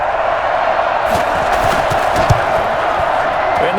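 A home stadium crowd in the Madden NFL 21 next-gen game roars steadily through a Dolphins versus Jaguars matchup, a dense continuous wall of cheering with a few brief louder whoops, no pauses.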